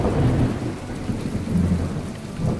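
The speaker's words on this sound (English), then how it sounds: "Thunderstorm!" A thunderstorm in the video game Planet Explorers, with steady rain hissing over a low, rolling rumble of thunder that swells and eases without any voices.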